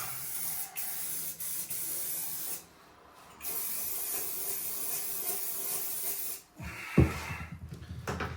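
Long bursts of spraying hiss close by during a bathroom remodel, pausing briefly between passes, ending with a short knock and rattle.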